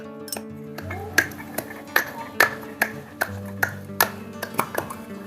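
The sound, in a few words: garlic being crushed by hand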